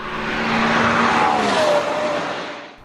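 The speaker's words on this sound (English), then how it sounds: "the insane F1 style exhaust note from that amazing V10" A Porsche Carrera GT from 2005 with its V10 engine roars past, a loud high-pitched exhaust note sweeping up and then dropping in pitch as the car goes by, fading out at the end.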